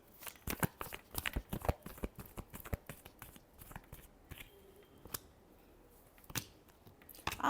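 Tarot cards are shuffled close by in quick irregular bursts of crisp riffling and slapping clicks, growing sparser toward the end, with no talking.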